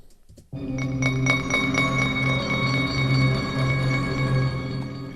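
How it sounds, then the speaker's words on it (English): Bright, bell-like synth tones ring out in a steady pattern of tapped, glassy notes over a sustained low pad, starting abruptly after a brief quiet moment. "So it's like glass being tapped"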